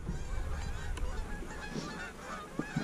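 Low-flying geese honk over a river during a frigid waterfowl hunt, a chorus of scattered calls over steady wind noise, moderately close but fairly soft.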